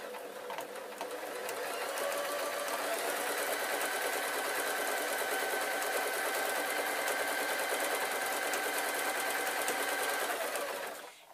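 A hot sewing machine runs continuously at an even speed for about ten seconds, a close, steady whirring hum with fast needle clatter, then stops abruptly.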